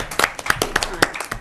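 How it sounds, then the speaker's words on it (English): A crowd at a school committee meeting applauds in a short, close burst of dense, overlapping claps. "So Tom really deserves, that applause too"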